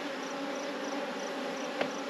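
Honeybees resting on a hive frame give off a faint, steady hum, with one brief tick near the end.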